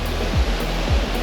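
Ocean surf at Galveston Island State Park rolls in as a continuous, loud wash of broken waves, with a couple of heavier surges standing out on a morning of high waves and little wind.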